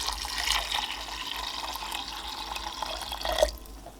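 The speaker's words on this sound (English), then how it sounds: "Once you've got your berries in there, you just need to add 3 cups of water" Three cups of water pour steadily into a pot of fresh elderberries for syrup, a continuous close splashing and gurgling rush that tapers off at the end.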